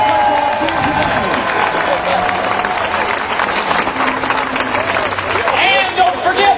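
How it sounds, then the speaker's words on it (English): A rally crowd applauds and cheers for legislators, loud sustained clapping mixed with shouts and whoops, with voices and crowd babble mixed into the roar. "Ladies and gentlemen, give these round of applause for our legislators here today."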